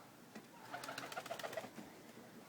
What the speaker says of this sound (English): That's the only pigeon stuck around.